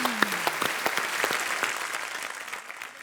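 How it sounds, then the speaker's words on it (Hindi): A studio audience at a comedy talk show claps in a dense, lively burst of many hands that gradually tapers and softens over a few seconds. "जोरदार तालियां एक बार मनोज भाई और तापसी के लिए।"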